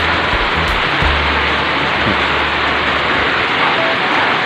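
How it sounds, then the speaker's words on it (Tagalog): Heavy rain pours down steadily at a farm in Cambulo, Banaue, Ifugao, a dense, loud, unbroken hiss with no voices. "Yan ang ulan."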